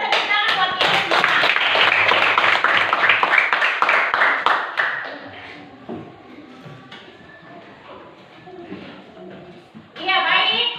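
A classroom of children claps together for their group work, a burst of sharp, close clapping that fades after several seconds, followed by quieter room noise, a few voices and a brief final flurry of claps.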